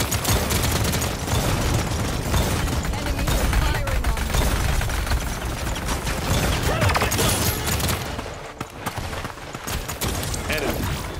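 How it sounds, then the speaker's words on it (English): Enemy gunfire in Paladins, Barik on a siege map, rattling in dense, continuous bursts that fill most of the stretch, dipping briefly near the end before resuming amid game effects. "Enemies are firing on me."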